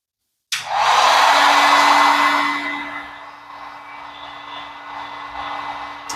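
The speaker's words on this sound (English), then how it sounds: "Pop it off the hat, walk it over to the heat gun." A heat gun switches on with a sharp click and blows a steady, loud airy roar, easing slightly after a couple of seconds while it shrinks embroidered puff foam on a hat.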